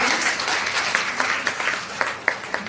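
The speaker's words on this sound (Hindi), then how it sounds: "एक बार चाचा जी के लिए जोरदार तालियां हो" Steady applause from a crowd at a novel launch event, dense and continuous, with a few sharper individual claps standing out near the end.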